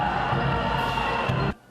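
Graduates at a Taiwanese police university graduation ceremony cheering as the president presents medals, a short burst of crowd cheering and shouting that cuts off abruptly.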